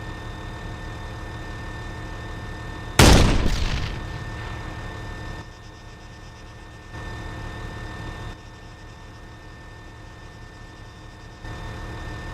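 A heavy round fires from the AMV-7 Marshall armored vehicle's cannon in Arma 3, one sharp loud boom that decays over a second, over a constant engine idle hum before and after.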